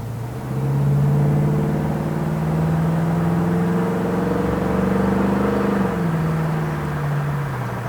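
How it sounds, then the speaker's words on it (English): A 1968 Ford Mustang engine drones loudly from inside the car, pitch rising steadily as it accelerates, then dropping briefly at a smooth automatic gear shift. "Car's got good acceleration here"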